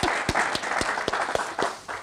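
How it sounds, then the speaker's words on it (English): Wedding guests at a ceremony break into a round of applause, a loud steady wash of clapping with sharp individual claps standing out near the listener for about two seconds. "round of applause for Steve"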